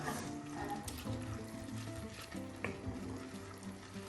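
A pot of egg vegetable rice simmering on low flame is stirred, giving steady soft bubbling and sizzle with scraping and clinks of a utensil against the pot, close and continuous.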